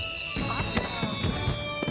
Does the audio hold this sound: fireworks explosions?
yes